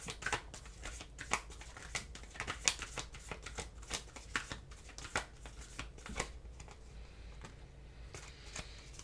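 Oracle cards being shuffled in the hands, a run of quick crisp riffling and flicking bursts, close and fairly quiet, with no talking over them.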